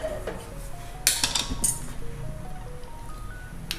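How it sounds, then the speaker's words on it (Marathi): Metal pan set down on a stove, a bright clink and clatter of cookware with a couple of sharp metallic knocks, followed by softer ringing tones fading under light room noise. "पॅन ठेवते"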